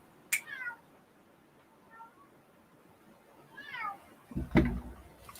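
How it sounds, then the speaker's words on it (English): A pet cat meows indoors, several short rising calls spread out with pauses, fairly close and moderately loud, ending with a louder knock or bump near the end, and no talk. "Hang on, my cat wants to say hi."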